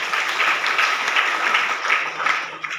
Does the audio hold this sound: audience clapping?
yes